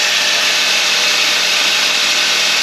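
A steady, loud power tool drones continuously with an even, unbroken whine and no pauses or talk, running off a 12V 100Ah LiFePO4 lithium battery.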